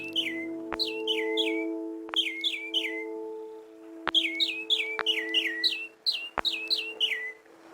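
Birds chirp in a chill indie video game, with quick bursts of tweets in clusters over a sustained tonal drone, punctuated by sharp clicks at irregular intervals.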